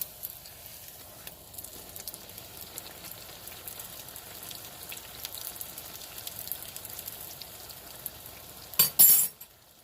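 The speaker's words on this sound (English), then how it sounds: "It's just like frying fry bake." A steady, soft sizzle of Trinidadian aloo pies frying in oil, with a brief clink of a utensil near the end.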